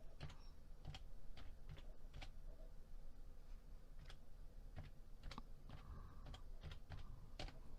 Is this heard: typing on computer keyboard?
yes